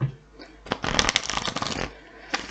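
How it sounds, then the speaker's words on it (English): Tarot cards riffle and slap together in a close shuffle, a dense burst of papery rustling lasting about a second, preceded and followed by softer handling noises. "Here we go, doing a shuffle."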